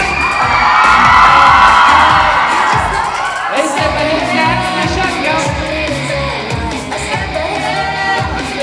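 A large crowd at the OPPO A3 Series Mission Day launch event cheers and shouts loudly, with high excited voices and whoops peaking early, then carrying on as a steady, slightly softer roar.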